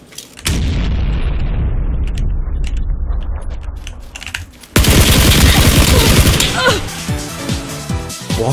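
Gunfire in PUBG Battlegrounds, solo mode: a loud opening shot rings out and decays, then a dense burst of rapid, very loud shots follows, with a voice talking over the fighting.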